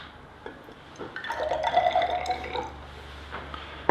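A little water trickles into a test tube holding sodium carbonate powder, heard as a faint, close, gurgling pour lasting under two seconds against quiet background.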